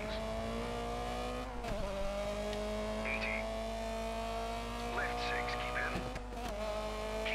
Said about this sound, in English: that is a nice sounding engine